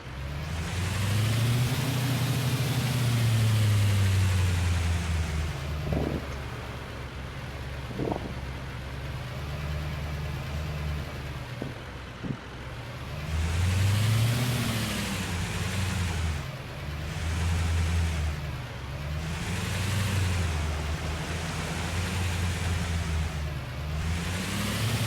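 Four-wheel-drive truck engine straining in deep mud, a loud sustained roar that rises and falls in repeated revving surges over about 25 seconds, with no voices.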